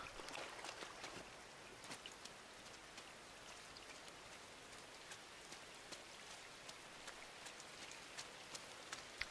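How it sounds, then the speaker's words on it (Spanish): Steady rain falls in the video game Inside, a continuous soft patter with scattered drops ticking on surfaces, moderate and even throughout, with no voices. "Me fascina la lluvia, wow, qué rico se oye eso."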